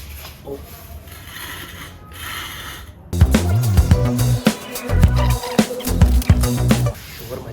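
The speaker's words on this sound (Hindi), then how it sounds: "अब इसको जैक लगाते हैं साइलेंट मोड पे करके।" Rhythmic mechanical cranking of a car jack with rasping, ratcheting strokes starts after a few seconds of quieter rustling, loud and close, continuing in repeated bursts.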